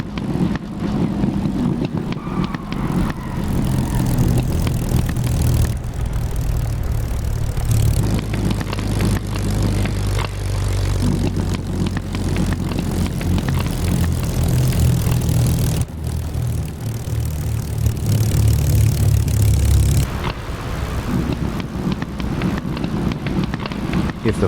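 Spitfire Mk IX propeller fighter landing in the DCS flight simulator, a loud, continuous engine drone and propeller roar with throttle changes shifting the pitch and intensity throughout.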